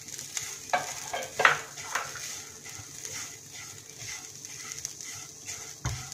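Semolina with fresh grated coconut stir-roasted in a pan over low flame: a gentle, continuous sizzle with repeated scraping strokes of the spoon and a few louder knocks against the pan.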